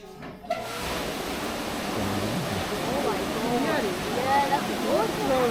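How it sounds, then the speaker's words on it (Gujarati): Water gushes steadily into an 1888 water-powered funicular train, a broad, continuous rush that swells slightly as the flow starts, with voices talking over it. "જોયું પાણીનો અવાજ આવ્યો, પાણીનો ફ્લો ચાલુ થયો"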